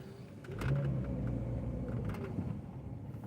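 A car idling and creeping in slow small-town traffic, a steady low engine rumble with a slight rise as it rolls, close and continuous with no talk.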